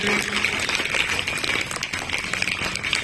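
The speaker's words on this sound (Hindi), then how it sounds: "सारे बच्चों के लिए एक बार जोरदार तालियां बजाएंगे" Loud, steady applause from a school assembly crowd clapping for the children who led the morning session, a dense wash of hand claps filling the whole stretch without a break.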